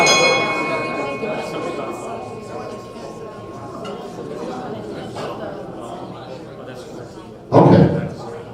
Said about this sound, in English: Here we go with the bell again.